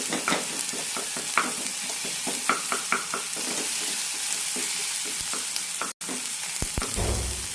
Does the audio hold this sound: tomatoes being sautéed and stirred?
yes